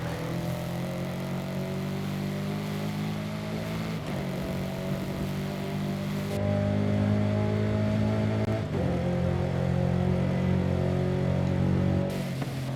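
Car engine revving steadily in Forza Horizon 5, a loud sustained drone with shifting pitch as the engine climbs and changes gear, heard alone with no talk over it.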